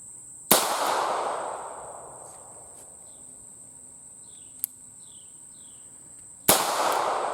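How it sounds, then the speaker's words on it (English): An 1895 Nagant revolver fires two sharp, loud double-action shots about six seconds apart outdoors, each with a long echoing decay. A faint click sounds between them, and birds chirp softly in the background. "We're going to try out some double action fire."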